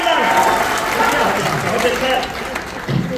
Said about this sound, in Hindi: अरे पर तालियां लगाइए